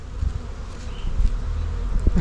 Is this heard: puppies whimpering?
no